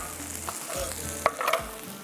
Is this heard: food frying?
yes